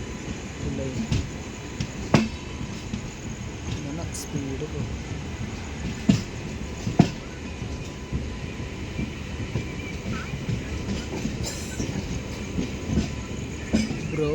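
A passenger train on the Mangalore to Ernakulam line rumbles steadily along the rails with faint clacks and occasional squeals, heard from inside the train. A few words of speech come through over the constant noise.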